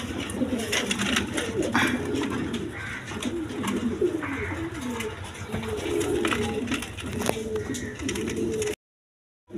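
A pair of large American Lakka pigeons coo repeatedly, low and throaty, close by over a busy background of other birds and market noise, then the sound cuts off abruptly near the end.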